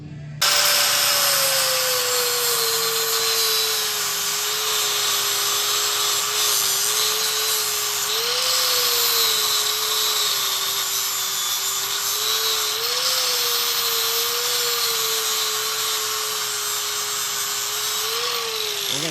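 A radius disc grinding a notch for a U-bolt into steel during a solid axle swap, a steady high whine sustained for about nineteen seconds with slight pitch dips under load.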